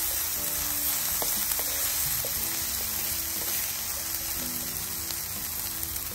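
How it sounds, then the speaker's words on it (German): Food sizzling and crackling steadily in a hot pan, with a few faint clinks and stirring sounds over the continuous hiss. "dann noch ein bisschen weiter brutzeln lassen"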